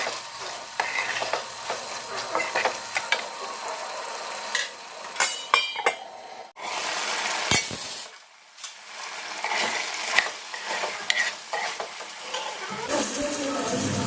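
Chicken curry with potatoes is stirred in a pot over the heat, a steady wet scraping and sizzling that runs throughout with clinks of the spoon, close and fairly loud, with a brief quiet gap partway.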